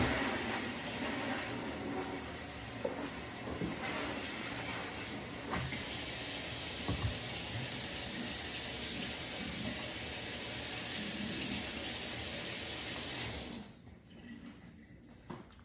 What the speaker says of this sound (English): I'm gonna go take it to the water and just rinse the crumbs